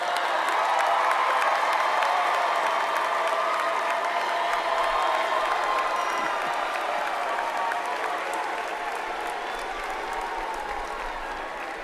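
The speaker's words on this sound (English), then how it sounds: "Graduates, cheer on your families." Graduates at a university commencement ceremony cheer and applaud their families, a dense sustained wash of clapping and crowd noise from a large audience, steady and fading slightly toward the end.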